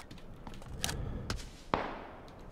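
Gunfire in PlayerUnknown's Battlegrounds comes as a few sharp, distant cracks scattered over a steady low game background, with one louder snap near the end followed by a brief fading tail.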